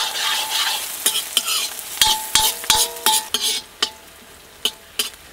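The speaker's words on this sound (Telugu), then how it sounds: "అదే కడాయిలో ఒక చెంచా నూనె వేసుకుని కోసి పెట్టుకున్న 2 ఉల్లిపాయ ముక్కలు కూడా వేసేసుకుందాం" Chopped onions frying in a spoon of oil in a kadai, with a bright sizzle and a run of sharp, irregular metal spoon scrapes and clanks against the pan, close and loud, no speech.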